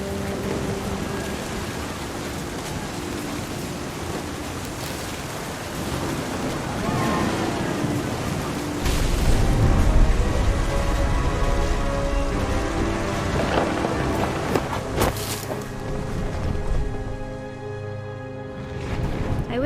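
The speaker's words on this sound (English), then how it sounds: "The thunder sounded much too close and full of angry power." Heavy rain pours steadily in What Remains of Edith Finch while thunder rumbles close and loud, swelling midway and ending with a sharp crack. A narrator speaks quietly over the storm.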